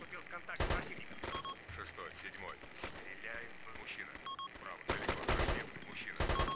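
Heavy gunfire in the military shooter game Arma 2: loud, sharp bursts of automatic fire and single shots crack in clusters, with quieter stretches of distant battle noise between them.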